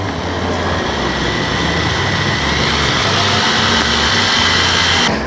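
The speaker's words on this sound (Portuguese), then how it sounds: "eu tenho a furadeira e eu tenho esse batedor aqui, ele é de tinta" An electric drill spins a paint mixer paddle whisking coconut oil soap, a loud continuous whirring grind with slight pitch wavers, stopping abruptly at the end.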